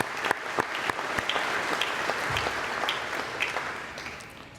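An audience at a Master of Science in Anesthesia diploma ceremony applauds faculty members, a full, sustained round of clapping that fills the room at fairly loud level throughout.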